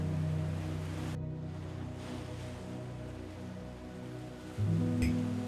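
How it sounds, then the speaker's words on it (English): Soft, steady wash of waves lapping against a shore in Thailand, with a low rumble beneath, a gentle continuous lapping that swells slightly louder near the end. "Just the gentle sound of waves lapping against the shore and wooden boats drifting slowly"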